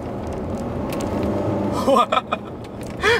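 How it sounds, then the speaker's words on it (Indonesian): Chevrolet Captiva LTZ 2017 turbo diesel car accelerating on an afternoon street in Bintaro, a steady engine rumble building under a voice, with louder bursts toward the end. "Gila, turbo dieselnya mantap banget."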